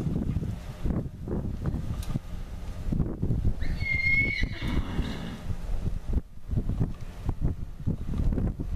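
A horse whinnies once midway, a high wavering neigh over gusty wind noise and soft, irregular hoof thuds.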